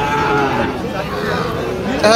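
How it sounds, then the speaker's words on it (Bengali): Sahiwal cattle at a busy rural cattle market, a drawn-out low moo close by amid crowd chatter and voices of people talking throughout. "দেখতেছি একসঙ্গে দুইটা গরু আছে"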